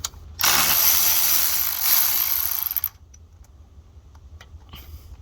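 Ratchet wrench tightening starter bolts on a Lexus SC430, a close, loud rapid clicking run of about two and a half seconds that slows and stops, followed by faint scattered ticks and handling noise.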